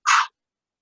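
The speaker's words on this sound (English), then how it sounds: "So the breath kind of sounds like this." A single forceful kriya breath is pushed out through the mouth during a yoga practice, a short airy whoosh of about a third of a second, close to the ear and alone, then silence.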